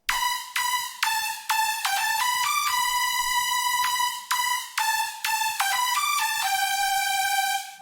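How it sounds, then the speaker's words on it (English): Bright digital synth lead built in the Vital synthesizer from a simple wave layered with white noise, given reverb and an 8-bit bitcrush effect; choppy rhythmic notes with buzzy harmonics play a short melodic progressive house phrase, loud and alone. "this is some digital sound with a bit of reverb and kind of 8-bit crush effect on it"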